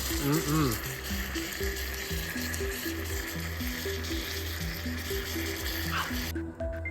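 Steaks sizzle and crackle in a hot pan outdoors in winter, a steady frying hiss under a low background hum and faint tonal sounds.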